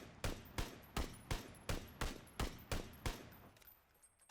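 Nine evenly spaced gunshots from a rifle in PUBG, fired during a recoil pattern test, ring out loud and sharp at a steady rhythm about every half second, each with a short tail, then stop near the end.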